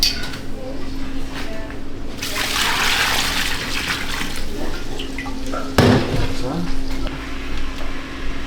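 Vinegar is poured over sliced potatoes for an old-style German potato salad. A close, short trickling splash of liquid rises for a few seconds, then tapers, over a steady kitchen hum.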